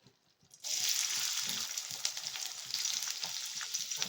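Oil in a wok starts sizzling loudly after a brief quiet start as onion is added, a steady crackling fry with small pops throughout, close by.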